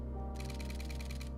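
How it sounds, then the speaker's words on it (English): A camera's shutter fires in a rapid burst, with about a dozen quick, evenly spaced clicks sounding close and fairly quiet over a low steady hum. "Let's see that mechanical shutter or the electronic."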